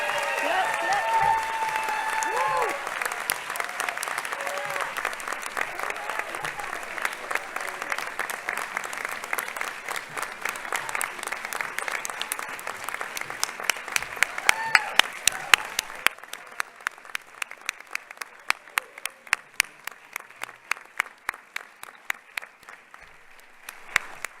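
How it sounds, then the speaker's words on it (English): Large audience applause at a doctoral hooding ceremony, a dense roar of clapping in a big hall that thins over time into scattered, distinct individual claps. "let's give a round of applause to the people who got you here"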